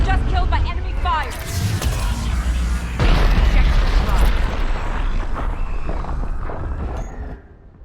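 Combat in the Mass Effect 3 video game: dense, loud booms and bursts of weapon fire crowd the whole stretch, heavy low rumble throughout with sharp blasts layered over a voice talking, easing off near the end.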